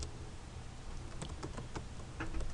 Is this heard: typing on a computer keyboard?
yes